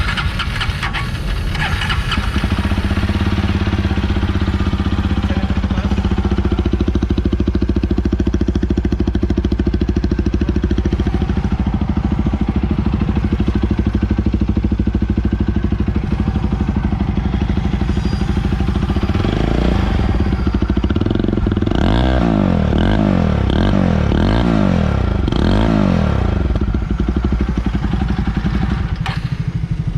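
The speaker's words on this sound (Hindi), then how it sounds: "एक बार आइडल की आवाज़ सुनेंगे, एक बार फिर फुल रैप की आवाज़ सुनेंगे।" A Jawa 42 Bobber motorcycle engine runs steadily at idle for a long stretch, then revs up sharply several times near the end, loud and close.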